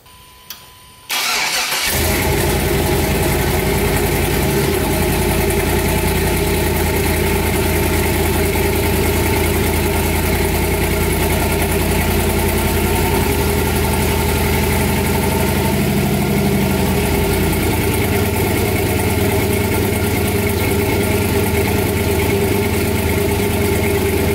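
Car engine fitted with a newly installed, larger turbocharger starts up after a brief quiet moment, then runs steadily at a loud, close idle with a low rumbling drone and a faint high whine throughout, no talk.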